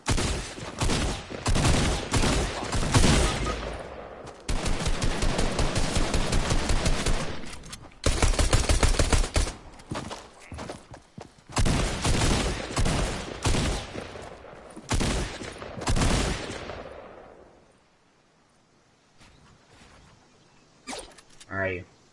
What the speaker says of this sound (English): I got people getting shot. Getting shot at.